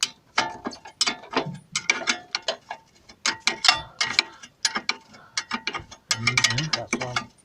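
A ratchet wrench clicks steadily as bolts are removed while fitting a car's constant velocity joint, loud close ratcheting in repeated bursts with short pauses between strokes.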